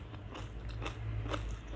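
Raw Thai eggplant is bitten and chewed close up alongside a fermented-fish papaya salad, with steady crisp crunching and wet mastication filling the short stretch and no talking.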